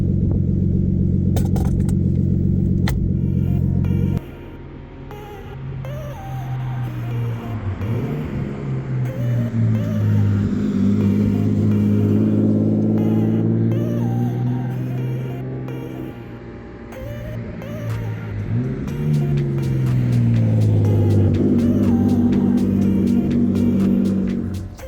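A classic car driving on the road for its first outing of the summer, engine droning and rumbling with rising and falling revs as it accelerates and shifts, steady and close, with no talking.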